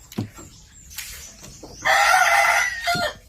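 A Japanese Shamo rooster gives a few short clucks, then lets out a loud, drawn-out crow near the end, heard close with no voices.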